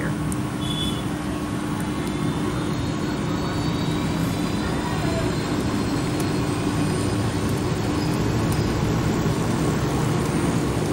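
A helicopter flies in a mobile shooter video game, making a steady, dense mechanical drone that holds evenly at moderate loudness throughout, with no talk.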